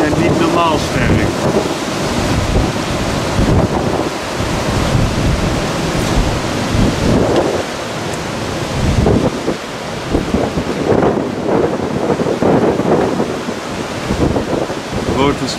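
Strong wind gusts from storm Eunice roar and buffet in 's Heerenberg, a loud, continuous rush that swells and eases from one gust to the next.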